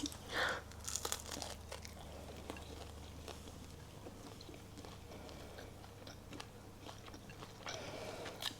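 Close, quiet chewing and crunching of food at a traditional Danish lunch, soft irregular bites and mouth sounds going on steadily without talk.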